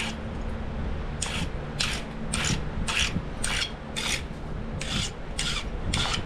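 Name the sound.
sharpening a flint knapping pressure flaker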